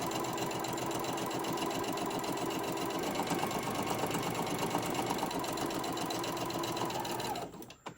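A sewing machine runs in one continuous close burst, stitching fabric carrot sides together with a rapid, even needle clatter that stops abruptly at the end.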